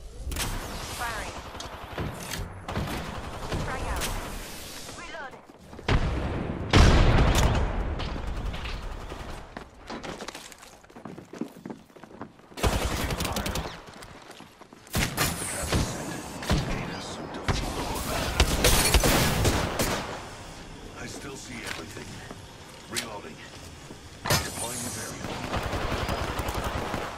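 Repeated bursts of automatic gunfire and impacts from a video game battle, loud and dense, broken by brief pauses, with game announcer voice lines and talk mixed in throughout.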